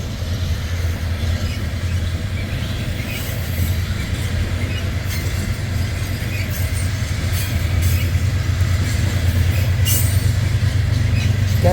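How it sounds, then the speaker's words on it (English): A freight train rolls past with its rear DPU locomotive near the end of the consist, a loud steady rumble of wheels on rail with some squeal and clatter throughout, no talking. "Here comes our rear DPU."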